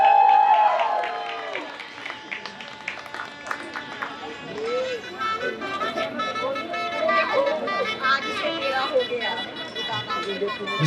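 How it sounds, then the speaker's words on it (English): Guests at an Indian wedding ceremony applauding the newlyweds, a broad wash of clapping and cheering from a crowd beneath loud amplified talk and music. "So let's give a round of applause."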